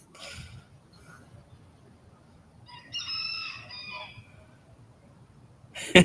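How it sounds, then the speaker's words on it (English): A backyard rooster crows once at middle distance, a drawn-out rising call over quiet outdoor ambience near a fire pit, with a brief sharp sound at the end. "Was that your rooster or mine?"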